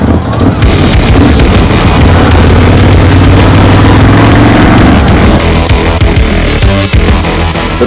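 A Ducati Scrambler 1100 motorcycle engine roars loud and close, a continuous rumbling exhaust with a rising tone in the first half, then steady throbbing revs.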